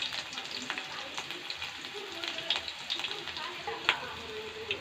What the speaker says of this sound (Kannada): ಇವಾಗ ಎಣ್ಣೆ ಕಾದಿದೆ. ನಾನು ಬೆಳ್ಳುಳ್ಳಿನ ಹಾಕ್ತಾ ಇದ್ದೀನಿ.